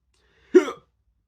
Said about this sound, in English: although it's making me hiccup an awful lot